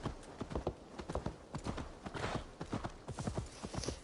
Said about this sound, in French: Petit poney.